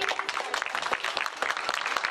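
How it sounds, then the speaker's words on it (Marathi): An audience claps at a Ganesh mandal dance event, a dense, fairly distant patter of many hands sustained for the whole short stretch. "एकदा समोरचे ऑडियन्स जोरदार टाळ्या वाजवतील"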